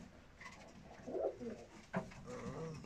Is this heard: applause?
no